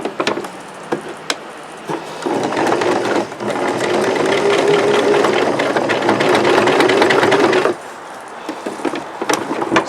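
A sewing machine stitches slowly through a thick jeans hem bump, with short bursts and clicks early, then a sustained loud mechanical hum for several seconds before stopping, followed by scattered clicks.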